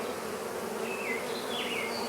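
Bees swarm around a hive built inside a cat house, a steady, faint, high-pitched buzz that continues without a break, with individual bees droning past close by.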